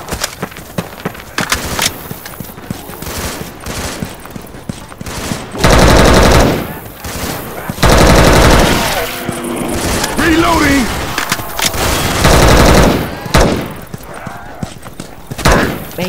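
Gunfire in the video game Left 4 Dead 2: rapid loud bursts of automatic fire and single shots, broken by short pauses, with players talking over the shooting.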